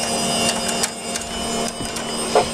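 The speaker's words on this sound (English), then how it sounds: "You just have to take these screws out." Screws being removed from the case of a Dell PowerEdge 2500 server give a run of short clicks and metallic ticks over a steady hum, close and moderately loud, ending with a brief scrape.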